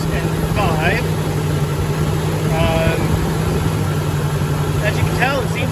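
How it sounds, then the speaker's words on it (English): A Renix-era Jeep engine idles steadily with a low, even hum and constant drone, close and fairly loud, while a person speaks over it at intervals. "As you can tell, it seems to be idling just fine."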